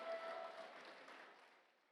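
Audience applause at an EarthCorps reunion gathering: a dense, steady patter of many hands clapping, heard faintly from a distance and slowly tapering off.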